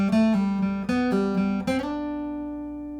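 Acoustic guitar lick played on a single string with pull-offs, a few quick plucked notes stepping in pitch before a final note rings out and decays, clear and close with no talk.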